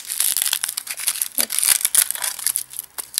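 A small ball of aluminium foil is crinkled and crumpled by hand during unwrapping. It makes a dense, continuous crackle of close, sharp rustles lasting several seconds, with no voices.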